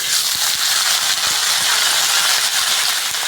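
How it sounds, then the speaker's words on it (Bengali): Mustard seeds crackle and sputter in hot oil for a Bengali fish curry, a dense continuous hiss dotted with quick pops, loud and close throughout. "সর্ষে ফোড়ন দেব"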